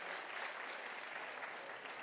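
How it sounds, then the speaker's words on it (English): Audience at a school gathering giving a big round of applause, a continuous wash of clapping that stays fairly even and quiet, with no speech. "big round of applause"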